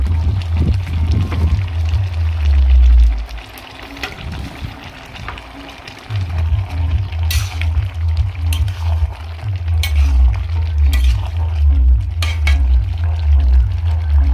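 Prawns go into a pan of pumpkin curry, setting off a loud, close, sustained sizzle. A rhythmic low scraping of stirring repeats underneath, with brief splashy bursts and no talking.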